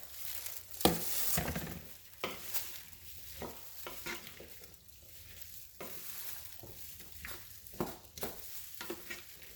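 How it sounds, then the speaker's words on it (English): Potatoes tumble into a skillet of cabbage and smoked turkey sausage, a loud initial clatter followed by steady sizzling and repeated scraping of a utensil stirring the pan. "Now in goes our potatoes"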